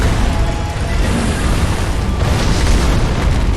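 A firecracker goes off in the Sekiro video game as a loud, broad boom and burst that fills the whole clip, dense and sustained with no talk over it.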